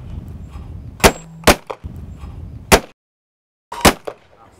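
Shotgun fired at a clay pigeon packed in protective packaging, several sharp loud bangs spaced irregularly, each with a brief echo, against quiet background.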